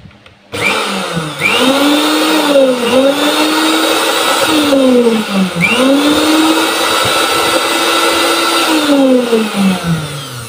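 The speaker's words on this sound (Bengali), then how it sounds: "এখন আমি একটু পাওয়ার কানেকশন দিয়ে আমি পুনরায় আপনাদেরকে দেখাই এটা আসলে চলে কিনা বা ভিতরে ফায়ারিং করে কিনা" An electric kitchen blender runs after servicing, its motor whining loud and close with repeated rising and falling pitch sweeps as speed shifts, alone without talk.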